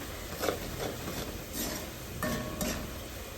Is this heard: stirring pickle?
yes